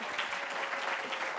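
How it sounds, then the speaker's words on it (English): Audience members at a talk on frontotemporal dementia nursing and end-of-life care give a short, dense round of applause, steady and fairly close. "she deserves another round of applause"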